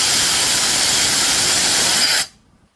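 A Bopcal ionic hair dryer blows a steady, loud broadband hiss of rushing air, then switches off abruptly near the end, leaving near silence.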